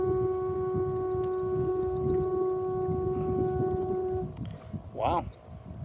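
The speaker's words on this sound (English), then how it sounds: "Oh, there's a loud horn." A loud, steady ship's foghorn at sea blares for about four seconds with strong harmonic tones, then cuts off, leaving wind and water noise as a voice speaks briefly near the end.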